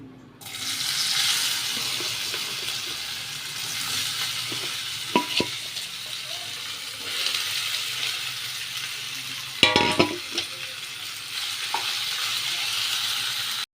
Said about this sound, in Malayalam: വെളിച്ചെണ്ണ അധികം വേണ്ട നമുക്കിത് വറുത്തെടുക്കാനാണ്